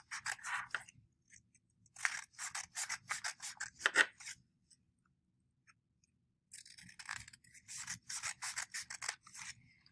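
Scissors snipping through paper along drawn lines for a paper weaving craft, with bursts of close, crisp cuts and rustling separated by short pauses and one longer silence.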